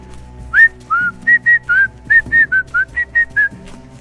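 Several bright, clear whistle blasts, about a dozen short evenly spaced toots, sounded by hikers on an unmarked mountain trail in the Brețcu-Oituz mountains to keep bears away, close and loud over faint outdoor background.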